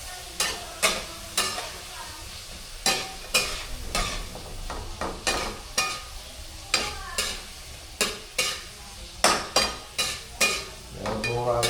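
Three eggs fry in a pan with a steady sizzle while a utensil stirs and scrapes in quick repeated strokes, about twenty sharp clacks in an uneven rhythm, close and clear.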